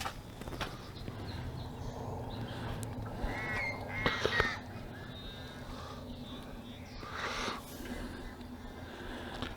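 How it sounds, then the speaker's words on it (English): Crows caw repeatedly at Swan Lake Nature Study Area in Reno, Nevada, several harsh calls spread across the stretch over a low outdoor background, moderately close. "birds are talking to you."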